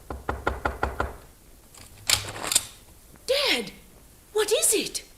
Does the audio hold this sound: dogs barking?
no